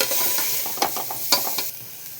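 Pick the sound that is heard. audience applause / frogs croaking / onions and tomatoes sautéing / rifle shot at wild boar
onions and tomatoes sautéing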